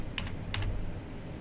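A few quick keystrokes on a computer keyboard, faint clicks over a low background hum, with no talk.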